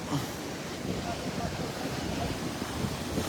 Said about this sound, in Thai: ลมทะเลแรงมากเลย